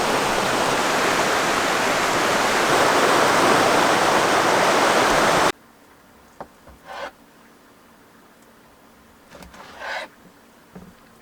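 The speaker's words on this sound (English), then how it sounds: "we are right beside the river" A river flows right beside a backcountry campsite, a loud dense rushing wash that cuts off abruptly halfway, leaving quiet air with a few faint knocks and rustles.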